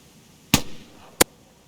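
Two semi-automatic rifle shots aimed at a rabbit in theHunter Classic, sharp loud cracks about 0.7 seconds apart, the first trailing a short echoing tail.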